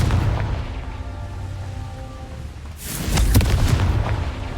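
A Confringo explosive spell cast in the video game Hogwarts Legacy: after a low rumbling buildup, a loud booming blast bursts out and rolls on for over a second.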